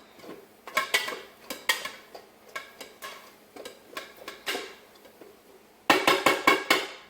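A utensil stirs rice dressed with sesame oil in a pot, knocking in a steady series of close clinks and scrapes, with a faster burst of sharp taps near the end and no talk.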